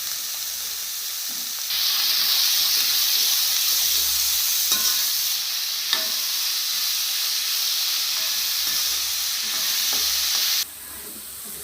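Onions with curry leaves and salt sautéing in a pan for a Kerala-style egg roast, a steady loud sizzle and hiss with occasional stirring scrapes, no voices.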